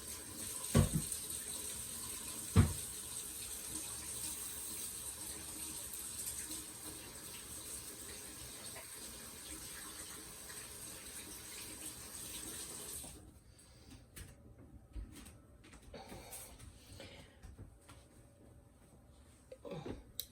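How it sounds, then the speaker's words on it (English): A kitchen tap runs in a steady hiss for about thirteen seconds while hands are washed during stew canning, with a couple of clunks near the start, then the water stops, leaving faint handling noises. "let me wash my hands real quick"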